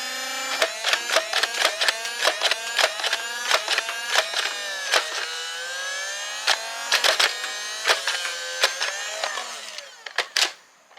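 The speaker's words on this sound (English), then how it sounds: "Do mind the noise. It's the neighbor doing some construction." Harsh, rhythmic bursts of construction machine noise from a neighbouring property repeat in short pulses with brief gaps, fairly loud and close, no talking.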